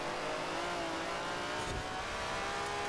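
A car engine held at full throttle in the racing game Forza Horizon 4, a steady dense roar that stays loud and unbroken from start to finish with no speech.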